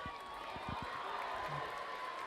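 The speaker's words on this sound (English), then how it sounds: "Kennedy super fans getting the crowd pumped up here right now." Big homecoming high school football crowd at night, Kennedy versus Minneapolis DeLaSalle, a distant steady murmur of cheering with a few thumps, low and continuous throughout.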